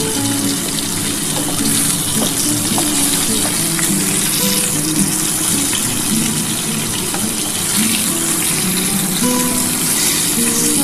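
Tilapia frying in hot oil, a loud, dense, continuous sizzle and crackle that stays even from start to finish with no talking.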